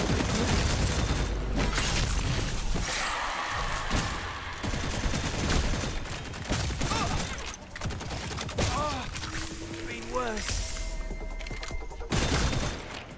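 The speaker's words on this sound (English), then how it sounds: "Who's shooting?" Sustained bursts of gunfire in the video game Bugfall, loud and continuous through the first seconds, then scattered shots mixed with creature screeches, mechanical clatter and tonal game effects.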